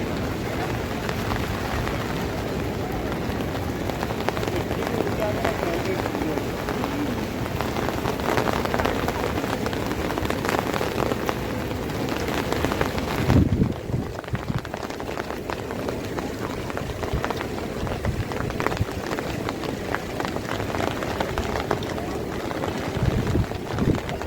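Monsoon rain falls at the Deogad windmills in a continuous broad hiss, with a few heavier thuds near the middle and faint voices at times.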